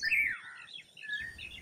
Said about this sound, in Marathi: लाल बुड्या बुलबुल पिवळ्या फुलात रमून गेले.